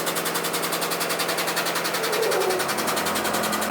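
Air compressor running beside a motorcycle air/hydraulic lift table, a steady fast pulsing mechanical chug that holds loud and close throughout, with no voices.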